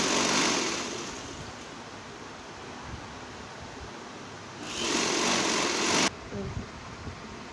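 A sewing machine runs steadily, stitching elastic onto a kurti, a continuous whirring hum that swells louder for a stretch near the end before cutting off abruptly.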